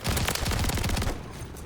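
Rapid gunfire from a shotgun with a 60-round drum in Modern Warfare 3, a fast run of loud, tightly packed blasts that breaks off abruptly after about a second.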